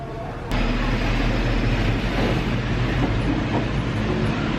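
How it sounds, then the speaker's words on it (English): A train at a station gives a steady, loud low rumble and hiss, with a sharp clank near the start and a continuous mechanical drone close by. "the train's just pulled up. There it is, the 13:55."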